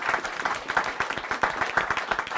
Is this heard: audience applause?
yes